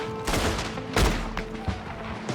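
Several sharp gunshot bursts ring out at irregular intervals in Red Dead Redemption 2, over a continuous background rumble, loud and close, with brief echoing tails.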